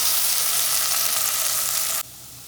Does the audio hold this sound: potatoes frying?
yes